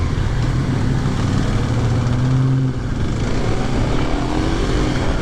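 A 2023 Kawasaki KLX 300SM motorcycle pulls through short first gear, its single engine droning loud and close with a brief rev dip midway, wind noise constant and no talking.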